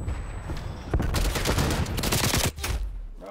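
Dense rapid gunfire from a Search and Destroy match in Call of Duty Cold War, loud close bursts of automatic fire rattling over each other with brief pauses, a sustained barrage of shots.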